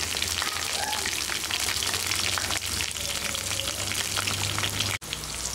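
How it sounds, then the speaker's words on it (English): Crushed ginger, garlic, cumin and coriander seeds with green chilies fry in hot oil for a potato, brinjal and peas curry, giving a loud, continuous dense sizzle with a brief dropout near the end. "Into that oil, add these crushed ginger garlic along with the cumin seeds and coriander seeds, and next some green chilies to it"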